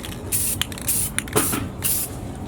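Gloss clear coat sprays from an aerosol can onto a tinted 370Z tail light in four short hissing bursts, close and loud, with brief clicks between passes.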